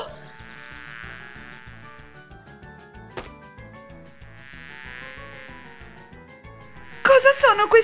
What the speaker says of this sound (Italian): Oh, zanzare! Sono fastidiose!